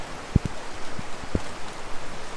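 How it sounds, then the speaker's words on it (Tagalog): Rain falls heavily in early May, heard from a third floor as a steady wash of noise with scattered louder drops and splats hitting nearby surfaces, and no talking. "nakikita po natin na napaganda ng buhos ng ulan"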